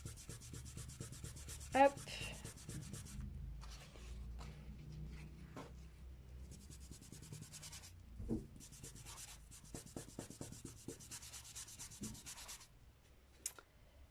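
A small brush rubbing on paper, distress spray and stencil crafting, giving soft dry scratchy strokes in irregular bursts, close and fairly quiet, with a brief spoken word near the start.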